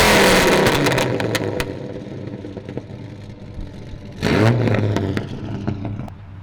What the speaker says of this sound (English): he has to listen to this beautiful truck